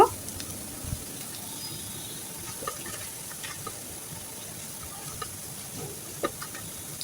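Onion and garlic frying in oil until brown, a steady low sizzle with occasional stirring clicks and taps from a utensil in the pan.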